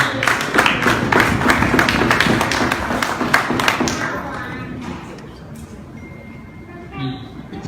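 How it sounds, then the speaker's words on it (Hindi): An audience claps for Adnan Bhai at a cricket coaching gathering in Maryland, a dense burst of hand claps that gradually thins and fades, with a voice briefly heard near the end. "अदनान भाई के लिए ताली हो।"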